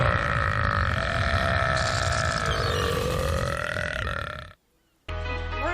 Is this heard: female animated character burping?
yes